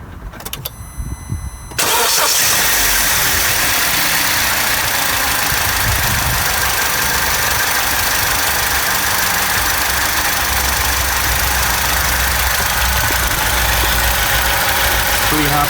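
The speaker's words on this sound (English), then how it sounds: "Let's start the engine, see if we get oil through." A Vauxhall Corsa D engine cranks and catches after a brief quiet moment, then idles loud and steady right up close for the remaining time.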